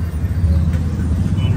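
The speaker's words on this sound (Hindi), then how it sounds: "गाड़ी स्टार्ट हो गया भैया।" Toyota Urban Cruiser Hyryder engine running just after starting, a close, low rumbling idle with slight fluctuations and a soft click partway through.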